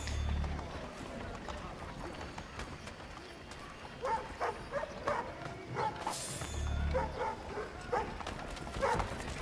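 Dog barking in the video game Assassin's Creed III, a few short barks from about four seconds on, heard over game ambience and low rumble without speech.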